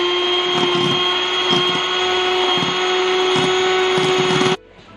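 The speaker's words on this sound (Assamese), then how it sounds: "মই মেচিনটোৱে ভালদৰে এয়া ক্ৰীমখিনি ফেটি ল'ম" An electric hand mixer whips cream made from Oreo biscuit filling and a little milk, a loud steady whine with faint rhythmic knocks against the bowl, then cuts off abruptly near the end.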